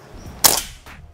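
One sharp, close shot from a Predator Mini OD 38 PCP air rifle cracks loudly, followed by a brief fading echo and a faint softer click.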